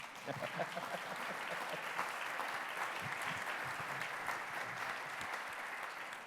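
An audience applauds panelists at the close of a tourism forecast session in Houston, with sustained clapping from a moderately sized crowd and a few voices briefly audible at the start.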